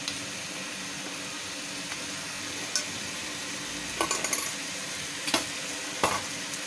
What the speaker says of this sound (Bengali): এখন এটা মিশিয়ে নেব